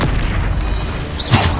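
A Depulso spell cast in Hogwarts Legacy lands as a loud, booming burst near the end of a steady, dense game soundscape, a single heavy impact rising above continuous background rumble.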